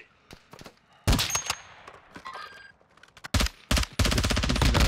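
Gunfire in Warzone 2 within a town, scattered single shots followed by loud, dense automatic bursts, near and punchy, with short gaps of quiet between the volleys.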